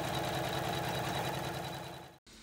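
An embroidery sewing machine hums steadily while stitching lace onto an in-the-hoop coat hanger design, a continuous faint motor drone with a brief cutout near the end.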